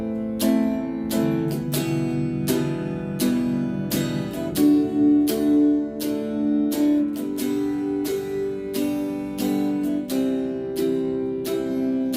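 Beginner guitar chords change one after another in a steady strummed progression, each chord hit with a few sharp downstrokes, close and clear without any talking.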